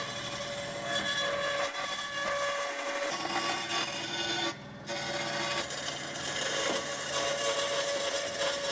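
Power tool cutting through the front of a Lexus transmission housing, a continuous loud, harsh grinding whine with a brief dip midway, close up and with no talking.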